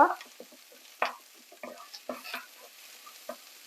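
Thin slices of small onion sizzle in a pan of tempering for a Jaffna-style white pumpkin curry, with a spoon scraping and knocking in short, scattered bursts over a faint hiss, close up and without talk.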